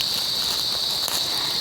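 Crickets chirp at night by a roadside in Teresa, Rizal, a continuous high, even trill that holds steady and close with no break and no voices.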